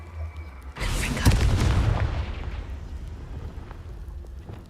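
A Confringo fire spell bursts in Hogwarts Legacy with a sudden loud booming explosion, and a rumbling roar then fades slowly over several seconds.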